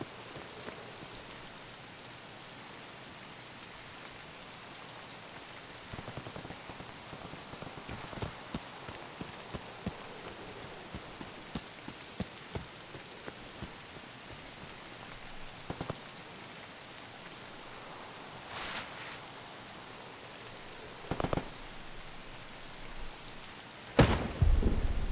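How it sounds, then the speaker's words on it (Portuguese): Steady rain hisses throughout in the video game Escape from Tarkov, with scattered sharp thuds and a few louder cracks and bursts near the end. "a chuva aumentou, mano"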